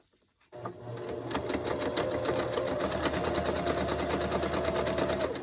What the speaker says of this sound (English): Now we're going to sew up this side of the leg.